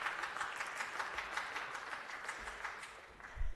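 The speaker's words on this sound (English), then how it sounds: "If we could please just give them a quick round of applause." A quick round of applause in a Los Angeles city council chamber, a soft, even patter of many hands clapping at a distance, tapering slightly toward the end with a low bump of room noise.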